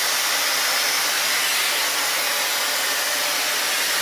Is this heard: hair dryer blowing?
yes